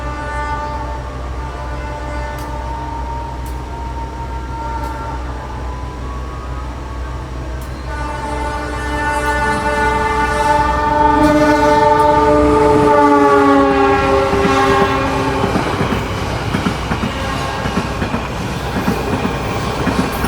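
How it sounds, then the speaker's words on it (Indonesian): The Pandalungan passenger train grows louder as it passes straight through Leces station nearby, its horn sounding in sustained tones over the rumble and clatter of wheels on rails. "kereta api Pandalungan telah melintas langsung stasiun Leces"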